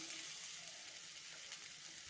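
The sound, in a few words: coconut being roasted in a pan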